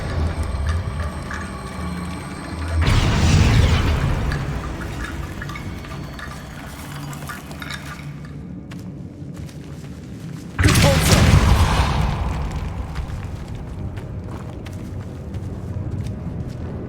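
Two big booming spell blasts erupt in Hogwarts Legacy combat, one early and one later, each a loud broadband burst that decays over a second or two above a constant rumbling game backdrop.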